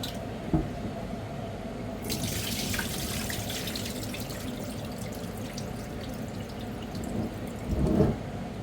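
Mutton rinsed under a running kitchen tap, water splashing steadily into the sink for several seconds, with a louder gush and clatter near the end; no talking.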